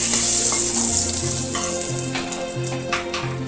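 Two dry red chillies, two bay leaves and two cinnamon sticks frying in hot oil in a wok, a loud, close, continuous sizzle with light crackles and stirring scrapes.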